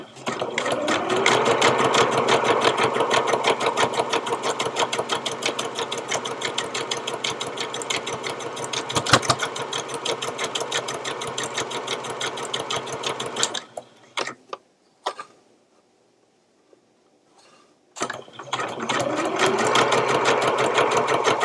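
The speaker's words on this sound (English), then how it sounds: "you're going to top stitch down that open edge just to close that" A sewing machine top-stitching the open edge of a fabric strap, running in a steady fast whir, pausing briefly near the end, then starting again.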